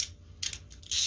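A ratchet with a 12 mm socket works on motor bolts of a Yamaha Virago 1100 motorcycle, giving a few quick close clicking bursts separated by short pauses.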